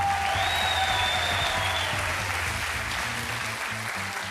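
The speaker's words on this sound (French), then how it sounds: "On l'applaudit." Audience applause for a magician walking on stage at France's Got Talent, steady dense clapping throughout, with music playing underneath and a rising tone near the start.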